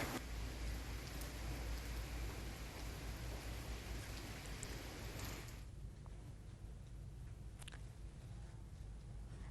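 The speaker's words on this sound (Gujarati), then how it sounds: "ભારે પવન સાથે ગીર સોમનાથમાં વરસાદ શરૂ થયો છે." Heavy rain driven by strong wind in Gir Somnath, a dense steady roar of broadband noise that stays loud throughout and eases slightly partway through, with no voices.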